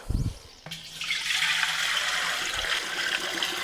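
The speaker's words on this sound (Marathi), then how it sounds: "आता हे तुमच्या देखत पाणी ओततोय आपण" Water pours steadily into a repaired copper or brass pot (handa), a broad rushing splash that starts abruptly after a short knock and carries on evenly and fairly close.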